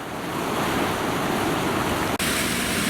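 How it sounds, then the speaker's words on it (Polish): Water pours steadily over the first cascade where the Psina river flows into the Oder in Racibórz, blocked by a jam. The rushing roar is loud and close, constant throughout with no voices. "jestem na pierwszej kaskadzie, gdzie wpływa rzeka Psina do rzeki Odry"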